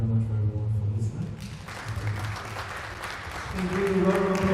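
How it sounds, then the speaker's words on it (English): A lecture audience claps at a conference event, the applause rising briefly in the middle while a voice speaks over it at the start and end. "Round of applause for that wonderful and insightful lecture."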